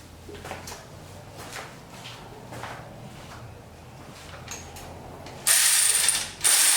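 Close ratchet clicking in quick bursts while driving screws on a 1981 Pontiac Trans Am, repeated short runs of clicks over a low hum, then a louder, harsher burst near the end.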